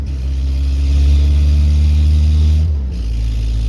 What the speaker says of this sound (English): It's a 1974 MG Midget 1275 that I've been driving for about a year and a half daily.